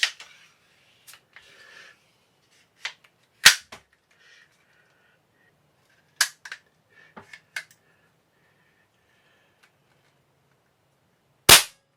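Several sharp, snapping shots from a restored Benjamin 312 .22 caliber air rifle ring out at irregular intervals, loud and close, with quiet pauses and faint clicks between them.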